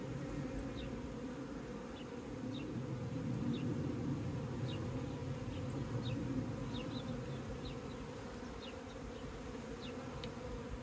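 Honeybees buzz in a dense, steady drone during an inspection of a hive being checked for leftover sugar bricks, with individual bees zipping close past now and then.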